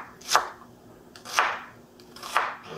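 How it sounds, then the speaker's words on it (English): Three evenly spaced knife chops cut a white onion into bite-sized chunks on a board, each stroke a crisp, close thump, with no voices. "I'm going to cut this up into bite-sized chunks"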